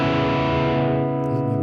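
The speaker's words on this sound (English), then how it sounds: "Let me reduce the distortion a little bit." An electric guitar played through heavy distortion rings out a sustained power chord at the fourth fret with open B and E strings, thick, buzzing and loud, slowly fading without any talk.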